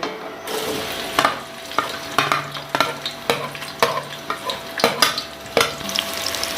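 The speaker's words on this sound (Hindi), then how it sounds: "प्याज को हमने ब्राउन करना है इसके अंदर फ्राई करके" Two medium onions frying in hot ghee in a pot for chicken pulao, a constant near sizzle broken by regular, sharp spatula scrapes and knocks against the pot, about one every half second.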